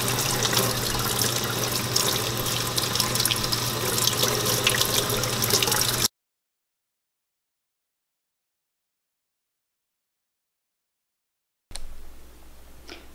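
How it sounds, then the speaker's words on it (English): Warm tap water runs over fig leather on wax paper in a steady, full stream for about six seconds, then cuts to silence before briefly starting again. "putting it under warm water"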